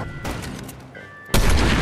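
Gunfire in a video game shooter: a few sharp loud reports, the biggest blast hitting hard near the end, with a brief quieter stretch between.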